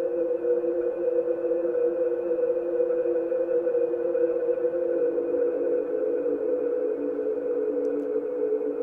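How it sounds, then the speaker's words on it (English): An ethereal synth pad from stock Logic sounds holds one sustained, smooth chord, steady and moderately loud, with no voices over it. "It's a pad that I found when I was searching through the many sounds that come in Logic."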